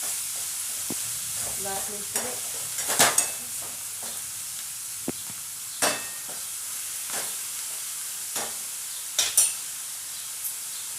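Vegetable bhaji being stir-fried in a pan, with scattered scrapes and clacks of the spoon against the metal over a faint, steady sizzle, close and fairly quiet.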